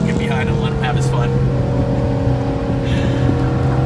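Porsche 718 Cayman GTS engine pulling hard on a race track, a loud, steady in-car drone with a sustained engine tone, and someone speaking over it early on.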